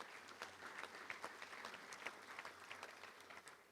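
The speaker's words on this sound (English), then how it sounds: "Let's give them a round of applause if we can." Applause from the audience at a Little Rock Touchdown Club luncheon, a steady, dense patter of many hands clapping at moderate distance with no talk over it.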